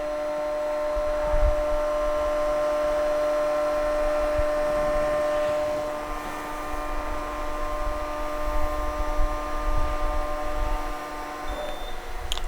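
Steady electric hum with tonal whine from an 18 x 22 inch Hydmech VW-1 semi-automatic vertical mitering band saw as its head swings through a miter, continuous and moderately close, with faint low thumps and a brief shift midway.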